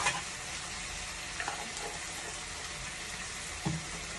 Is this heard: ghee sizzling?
yes